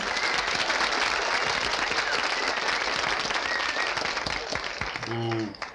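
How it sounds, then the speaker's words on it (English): An audience gives a big hand for a show's guest, dense steady applause filling the room at full strength before tapering off, with faint voices underneath and a brief tonal sound at the close. "Let's have a hand for the man we're all here to see."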